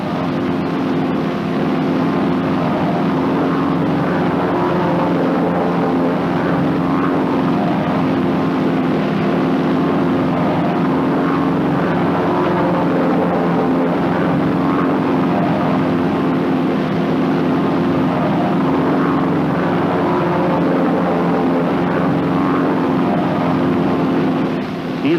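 Several North American T-6 Texan propeller training planes fly in close formation, their steady engine and propeller drone loud and continuous throughout, with no talking.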